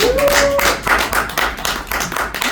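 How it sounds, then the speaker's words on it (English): A talk-show audience gives a round of applause after a singer's interview, loud close hand claps in an uneven rhythm that thin out toward the end, with a brief whistle or tone near the start. "Give me a round of applause"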